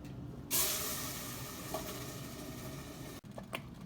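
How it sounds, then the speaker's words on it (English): Misal gravy simmers in a pan with a steady hiss and soft bubbling that carries on throughout, broken by one sharper spitting burst near the start and a brief dip near the end. "As gravy is cooking"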